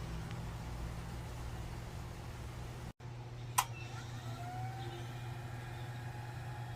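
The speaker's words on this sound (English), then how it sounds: "So I have the motor running on about 25 volts, and as you can see, it really runs nice and smooth and quiet" An antique Electromotor Company 1/2 HP direct-current electric motor runs at about 25 volts, giving a smooth, quiet, steady hum with a low tone throughout, a brief dropout and one sharp click.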